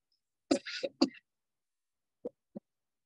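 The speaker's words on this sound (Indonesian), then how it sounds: "Maaf, batuk" A cough-like burst of voice followed by two short, soft throaty bursts after a pause, close and otherwise quiet.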